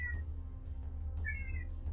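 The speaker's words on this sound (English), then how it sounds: "It's my cat's throwing a fit back here or something." A house cat meows loudly twice in agitated, drawn-out cries, a short first call and a longer wavering second one, heard indoors over a low steady hum.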